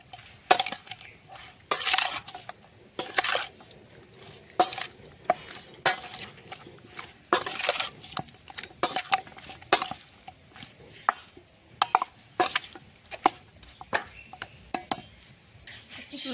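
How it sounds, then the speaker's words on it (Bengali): Raw chicken pieces being mixed by hand with salt and mustard oil for Bengali chicken kosha: irregular wet slaps and squelches with occasional light clinks against the bowl, close and fairly quiet. "সর্ষের তেল, মাংসটা মেখে নেব"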